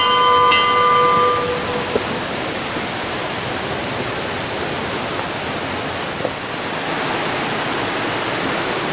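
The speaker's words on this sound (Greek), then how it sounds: "Να η καμπάνα." A bell is struck once near the Neda waterfalls, its ringing tone fading over the loud, steady roar of rushing falls that fills the whole scene.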